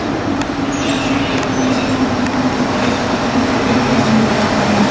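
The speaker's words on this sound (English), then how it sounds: "here comes the train. Let's pick up the train." A subway train arrives and rumbles steadily in an underground station in France, a constant loud roar with a low hum and faint metallic squeaks and clicks, no voices.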